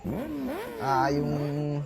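A motorcycle engine revs in short rising and falling pulls, then settles into a steadier, louder drone, close by and clear over the brief stretch.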